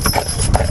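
Hooves of a massive Percheron draft horse clip-clop steadily on a Sunday drive, close and fairly loud, with no talking over them.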